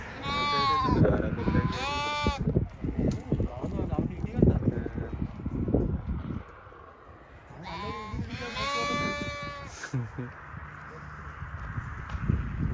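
Goats in a desert livestock pen bleat loudly several times, the calls rising over hoof clatter and the sounds of the herd, with people talking nearby throughout.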